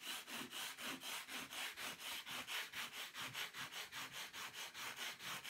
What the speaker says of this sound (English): I just take like a sanding block and I just give them a quick rub down